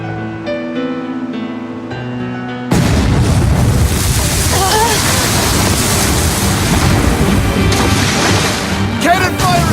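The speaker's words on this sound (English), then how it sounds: "Cannon fire astern!" Cannon fire in the video game Tales of Berseria: a sudden loud boom cuts off quiet music, followed by a sustained roar of heavy blasts and rumbling, with whistling tones and voices underneath.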